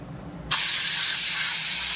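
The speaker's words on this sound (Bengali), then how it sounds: "এই যে একটা সিটে পড়েছে, আরও একটা দুটো পড়ুক।" A pressure cooker cooking mutton lets out a sudden loud steam whistle that starts abruptly and holds as a steady hissing blast to the end.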